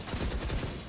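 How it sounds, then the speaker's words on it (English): Rapid gunfire from the tactical shooter Valorant during a championship match, a dense, loud burst of rattling shots filling the short moment without speech. "rattling off bullets straight down the angle"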